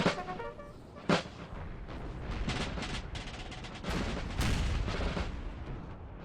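Continuous volleys of musket fire and artillery booms in a Napoleonic Total War battle between Prussia and France, dense overlapping crackling shots with occasional louder bursts, sustained throughout.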